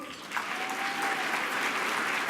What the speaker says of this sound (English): First, give this army of students a round of applause.